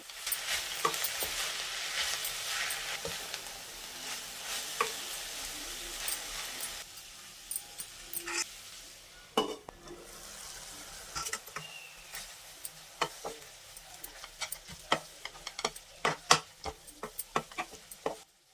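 Amaranth leaves frying with salt in a pan, a steady sizzle while a spoon stirs, then quieter scattered scraping clicks and taps as the stirring continues, close and fairly soft.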